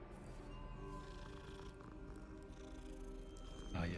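A cat purrs in a video game, a soft continuous rumbling purr held steady under low background game sound.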